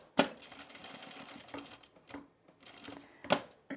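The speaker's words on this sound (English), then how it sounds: "I'm top stitching this" Sewing machine top stitching brown tweed fabric, heard as bursts of fast mechanical stitching with sharp clicks at the start and end, close and fairly quiet.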